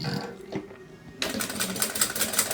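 A sewing machine backstitching a seam, a quiet pause followed by a fast, close, rattling run of needle stitching that carries on steadily to the end.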